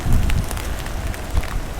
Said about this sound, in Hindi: बारिश काफ़ी तेज़ हो रही है।